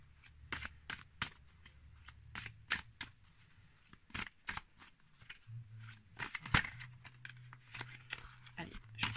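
Tarot cards being shuffled in soft repeated riffles and slides, close but quiet, interrupted by someone speaking over and between the shuffles.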